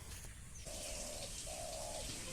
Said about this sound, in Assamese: কুলি চৰাই মিঠা মাতটোৰেই ভিডিঅ'টো আৰম্ভ কৰিলোঁ।